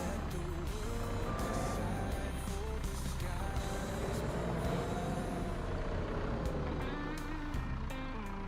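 Ground service truck backing up in Microsoft Flight Simulator 2024 airport operations, steady repeated reversing beeps over a continuous engine and ramp rumble, fairly loud and unbroken throughout.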